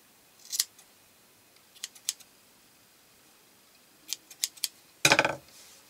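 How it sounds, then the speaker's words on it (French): Scissors snipping the fringe ends of a knitted scarf, a few sharp isolated snips spread out, then a quick burst of cutting near the end, close and clear against quiet. "De là, je peux couper mieux mes franges."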